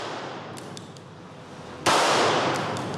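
A single sharp gunshot from a firearm at a shooting range in France cracks out loud and close, then leaves a sustained bright ringing tail, with fainter clicks and a low murmur beforehand.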